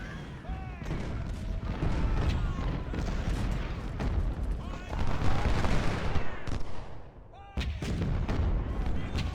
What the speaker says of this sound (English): we want to do some counter battery fire